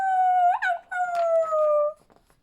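A dog howls loudly in a long wavering tone that slides downward, with a brief yip near the start, close and alone.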